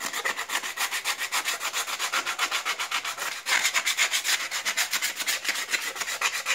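Sandpaper rubs back and forth over a skull being smoothed before carving, a close, rhythmic scratchy rasp of quick even strokes that continues without pause throughout.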